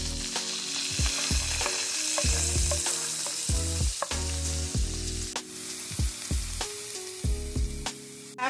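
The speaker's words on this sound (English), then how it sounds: "you want to add in your diced onion, and we're going to saute that for 2 minutes" Diced onion sautés in melted butter in a pan, making a bright, steady sizzle with occasional stirring clicks, while low tonal music plays underneath.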